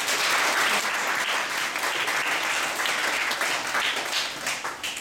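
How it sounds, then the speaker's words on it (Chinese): Audience applause thanking a lecturer at a summer camp session, dense and sustained clapping from a roomful of people that holds steady before tapering slightly at the end. "好，那大家以掌声谢谢讲师的分享。"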